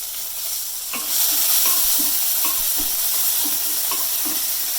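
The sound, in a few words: tomato, garlic and tamarind sautéing in pan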